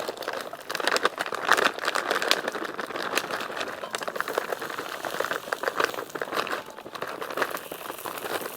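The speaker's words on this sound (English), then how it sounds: "next thing is we chuck some mixed berries" Frozen mixed berries tipped into a dish, a steady crackling, clattering patter of icy fruit lasting several seconds, close and fairly loud with no talk.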